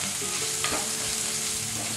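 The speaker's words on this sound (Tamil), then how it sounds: "இப்போ நம்ம துருவி வச்ச தேங்காயை சேர்த்துக்கலாம்." Grated coconut and cashews frying in ghee, a steady close sizzle with scraping stirs of a spoon in the pan.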